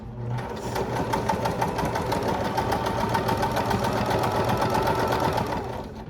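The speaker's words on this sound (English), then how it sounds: "then we're just gonna sew it all the way down" A sewing machine runs steadily, stitching a bear paw quilt block in stretch fabric, its fast needle rhythm close and continuous for the whole stretch with a brief hum at the start.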